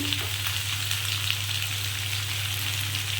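Malabar spinach and mixed vegetables fry in a pan, giving a steady, close sizzle with light stirring scrapes throughout, no voices present.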